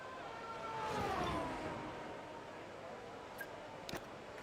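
F1 race cars in the F1 25 video game whine past, a high engine tone sweeping down as a car passes, then fading under quieter background noise with a few short clicks.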